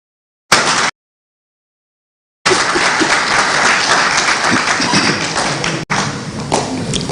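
Audience applause at a national education forum closing ceremony: a brief burst, a pause of silence, then sustained full clapping from a large crowd that runs to the end.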